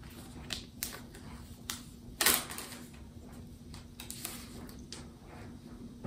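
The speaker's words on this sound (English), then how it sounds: "Let's pull away the plastic wrapping here." Plastic cellophane wrapping is peeled off an Asus Zenfone 9 phone box up close, giving scattered crinkles and sharp crackling snaps, one louder tear midway, with no talking.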